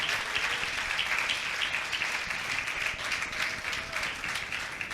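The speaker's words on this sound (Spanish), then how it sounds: "la iglesia que está viva aplaude y da gracias al Señor" A church congregation applauds steadily at a moderate distance, a dense sustained wash of clapping with no voices standing out.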